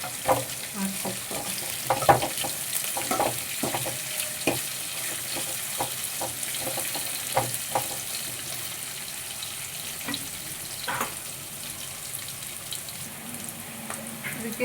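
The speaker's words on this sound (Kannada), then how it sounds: "ಇವಾಗ ಹಸಿ ವಾಸನೆ ಹೋಗೋವರೆಗೂ ಚೆನ್ನಾಗಿ ಹುರ್ಕೊಡ್ರಿ" Dry red chillies crackle and sizzle in a pan as a utensil stirs them with intermittent scrapes and clicks. A quieter watery background hiss sits underneath, with no clear voice.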